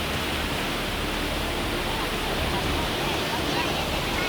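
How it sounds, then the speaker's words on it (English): Floodwaters of the Paclean, Santa Cruz, El Abra, Manantiales and Guayamba rivers rush through a valley in a dense, constant roar of churning water, loud and unbroken throughout. "These terrifying images reveal the catastrophic flooding of the Paclean, Santa Cruz, El Abra, Manantiales, and Guayamba rivers in the valley."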